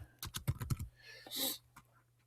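A rapid burst of keystrokes on a computer keyboard, crisp and close, then a brief soft rustle and one last tap before near silence.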